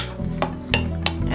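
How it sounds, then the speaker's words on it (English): Flour and salt for samosa dough are lightly mixed in a bowl, with a few sharp utensil clinks and knocks against the bowl over a steady low background. "we are just going to take 1 cup of flour and 1 teaspoon of salt. And we're just going to kind of lightly mix that together"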